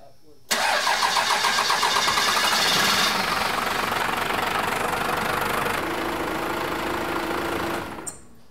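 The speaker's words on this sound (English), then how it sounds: "Now we're gonna fire it up for 10 seconds." A Cummins diesel truck engine cranks and catches abruptly, then settles into a loud, rhythmic clattering idle for several seconds before cutting off. Someone speaks briefly around it.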